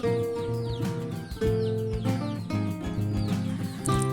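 Backyard village chickens cluck and crow at feeding time, several birds calling in a dense overlapping chorus with sharp repeated clucks and a sustained rooster-like call, close and loud throughout.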